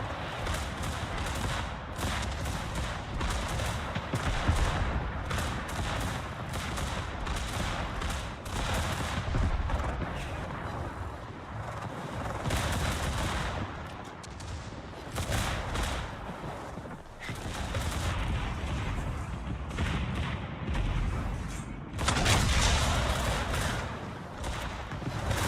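Naval secondary battery guns firing in the World of Warships video game, a dense continuous barrage of overlapping gunfire and booms that stays loud throughout, with brief lulls near the middle.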